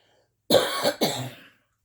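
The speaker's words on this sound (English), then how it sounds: "Gonna cough, sorry." Two close, loud coughs in quick succession, the first harsher and longer, followed by quiet.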